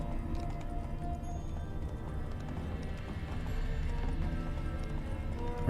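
Horse hooves clip-clop steadily in The Witcher 3: Wild Hunt, a continuous rhythmic trot at moderate loudness over a dense game soundscape, with no talking.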